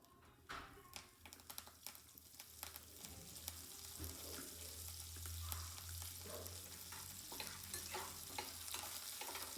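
Mustard seeds and curry leaves sizzle in a little oil in a home kitchen pan, with a soft, continuous crackle and occasional stirring scrapes over a low hum, heard quietly and up close.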